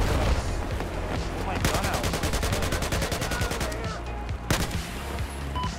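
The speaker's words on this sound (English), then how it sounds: "We were getting sniped at." Rapid gunfire crackles through a chaotic video game firefight, a steady automatic burst pattern sitting loud and close with heavy low rumble, plus a sharp extra crack near the end; a voice talks briefly underneath.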